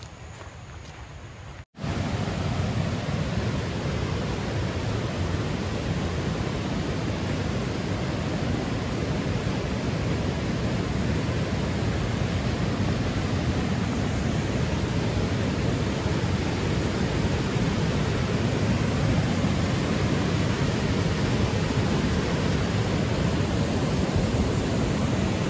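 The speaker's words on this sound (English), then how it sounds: "The Housatonic River is what you probably hear." The Housatonic River rushes over a small waterfall on a Connecticut stretch of the Appalachian Trail, making a loud, steady roar of broadband water noise that holds unbroken after a brief quiet start.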